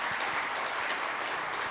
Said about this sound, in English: So please, another round of applause for the panelists.